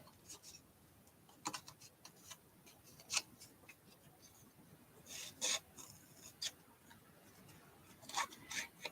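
Scissors cutting out a paper craft card piece, giving soft intermittent snips and rasping paper rubs at close range, with irregular bursts of cutting spaced by quiet pauses.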